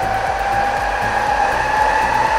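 A custom laptop cooling pad's fan blows hard and steadily, a loud continuous whooshing drone with a faint motor whine and low pulsing hum running unbroken throughout.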